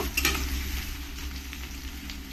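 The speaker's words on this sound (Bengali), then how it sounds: "পেঁয়াজটাকে ভালো করে লাল লাল করে ভেজে নেব" Onion frying with whole spices in a pan for a duck curry, a steady close sizzle with a few brief stirring scrapes near the start, no talking.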